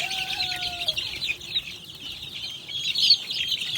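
Chicks and chickens in a garden flock cluck and peep as they are given feed. Frequent high chirps and clucks overlap close by, with a short whistling tone at the start.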